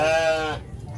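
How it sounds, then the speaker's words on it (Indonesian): One goat in a pen on a goat farm gives a short, clear bleat, which then breaks off into quiet rustling. "Gua di sini lagi di kandang kambing."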